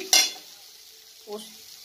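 Okra and potato stirred in a frying pan: two brief scraping stirs, the first louder and bright, over a faint background sizzle, with no one speaking.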